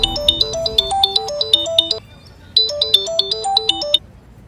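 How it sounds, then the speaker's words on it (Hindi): Mobile phone ringtone for an incoming call: a loud, bright electronic melody of rising and falling notes, playing a phrase of about two seconds, pausing briefly, then repeating, with no talk over it. "देखिए आपका फोन आ गया।"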